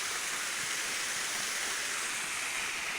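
Constant rushing roar of falling water, dense and unbroken like a waterfall heard up close.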